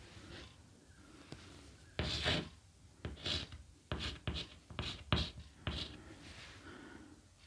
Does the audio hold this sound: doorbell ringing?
no